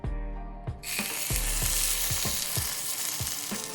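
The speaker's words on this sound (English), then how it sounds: "Flip and cook the other side until golden brown." Bread slices of French toast fry in butter in a pan, a loud hissing sizzle that starts abruptly after a brief quiet moment, with a regular series of low ticking knocks running beneath it.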